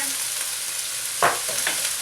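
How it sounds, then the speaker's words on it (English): Shallot and bok choy frying in a pan for chicken yakisoba, a steady sizzle with a couple of brief scraping stirs of the spatula and no talking. "we will continue the frying process"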